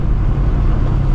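Ford Mustang GT S650 V8 with stock exhaust running close by, a loud, steady low rumble with dense bass and no distinct rev swells across the short stretch.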